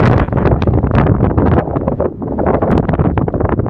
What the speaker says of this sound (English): Sorry about the wind, it's windy.